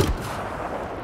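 A distant artillery blast in the World War I shooter Battlefield 1 opens with a heavy low boom that quickly fades into a rumbling tail, heard once and alone.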